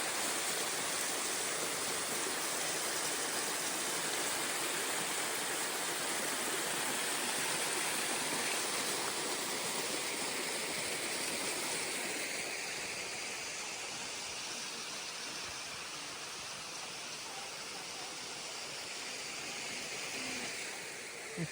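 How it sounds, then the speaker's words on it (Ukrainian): A mountain waterfall near Truskavets heard from right beneath it: a steady, dense roar of falling and rushing water that fills the whole stretch, constant and close, easing slightly toward the end. "Це ж я ж долізла вже під самий водоспад."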